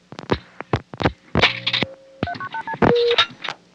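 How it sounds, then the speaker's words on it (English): A 1974 telephone dialing 0212 sends a quick run of separate touch-tone beeps, each a short steady tone, mixed with sharp clicks and knocks from handling the handset, close and fairly loud. "Let me try dialing 0 plus a number."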